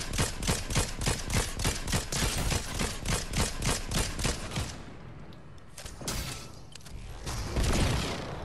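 Rapid bursts of Excalibur rifle gunfire in Fortnite Zero Build solos, a dense string of loud, close shots for several seconds that breaks off, then a few scattered reports and a final flurry.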